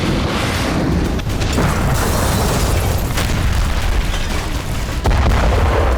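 Explosion in news footage from the Gaza war, heard as loud, dense rumbling booms that run continuously with no talk over them, including a sharper burst near the end.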